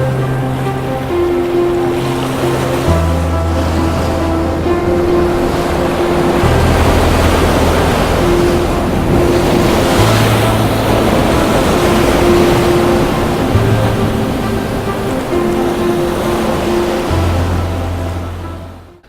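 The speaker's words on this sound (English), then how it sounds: "you get a sudden increase in the power and frequency of the waves breaking" Ocean waves break on the shore after sunrise, a loud continuous roar of surf and rushing water with surging swells, heard alone without any talking.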